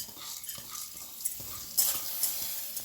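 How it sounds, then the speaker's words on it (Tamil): Washed sorghum grains stirred and roasting in a heavy pan give a faint, steady sizzle with soft scraping stirs and a few small clicks of grains, heard quietly and close with no talking. "சோளத்தை கழுவிட்டு பாண்டில் வறுக்கணும்."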